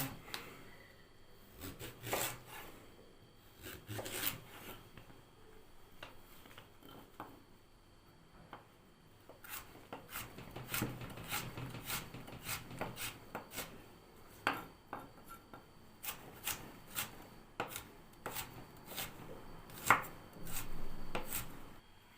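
Celery is chopped with a knife on a wooden board for a fish soup, sparse at first then quicker, irregular sharp knocks close by, some in quick bursts.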